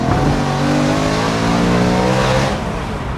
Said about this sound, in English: This car isn't just a load of noise. It's not just a high decibel. It really is a fine-tuned sound.